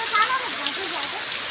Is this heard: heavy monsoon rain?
yes